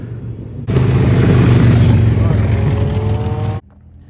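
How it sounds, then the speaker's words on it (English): A loud, throaty car exhaust roars up suddenly on a street in Melbourne, Florida at night, holds a steady rumbling drone for about three seconds, then cuts off abruptly. "there's always like some type of loud exhaust in the background here"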